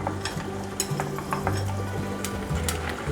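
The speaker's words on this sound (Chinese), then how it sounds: "油已经热了，把杏鲍菇放进来炸" King oyster mushrooms deep-frying in a small pot of hot oil give a steady, close sizzle, broken by a few light clinks from a utensil moving them around.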